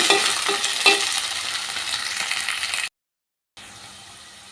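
Onions and curry leaves stirred in a frying pan, a steady loud sizzle with a few utensil scrapes near the start, then a brief silent gap before the frying hiss resumes more quietly.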